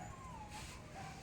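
A frightened dog whimpers in thin, faint whines that rise and fall over a steady background hiss, with no one talking.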